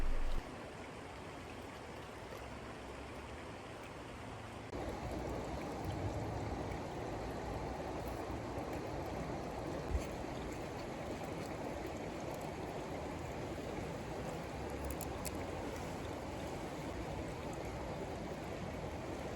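Water flows steadily through a small creek outflow, a constant broadband rush with no pauses, growing slightly louder partway through and heard alone without any voices.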